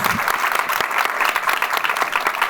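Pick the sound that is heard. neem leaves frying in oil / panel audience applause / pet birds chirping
panel audience applause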